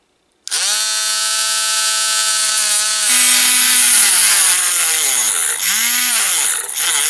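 A high-pitched rotary cutter starts abruptly and grinds continuously through a plastic mini figure at the shoulder, its whine dipping and rising as it bites, loud and close.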